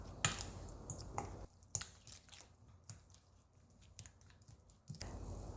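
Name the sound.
mixing spicy noodle sauce with kimchi in a bowl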